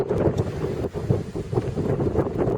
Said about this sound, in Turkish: Çok rüzgar var. Tehlikeli olabilir.